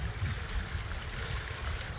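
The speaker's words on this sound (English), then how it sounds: "You can just hear the water coming down the" Water runs down old gully ways on a wet moorland walk near Griffin Wood: a steady, faint rushing and trickling wash with low rumble, continuous and unbroken throughout.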